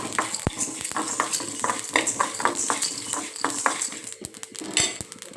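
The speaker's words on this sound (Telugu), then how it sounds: "ఇప్పుడు నేను చికెన్ వేసేస్తున్నాను" Marinated chicken frying in hot oil crackles and sizzles continuously, with a utensil clinking and scraping against the pan at close range and no talk over it.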